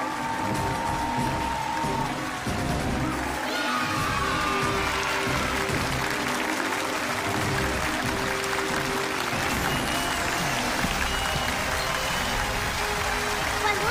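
Studio audience applause on a Chinese TV family talent show, a dense, steady wash of clapping that stays loud and unbroken throughout.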